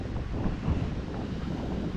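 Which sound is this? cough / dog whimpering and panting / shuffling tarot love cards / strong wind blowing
strong wind blowing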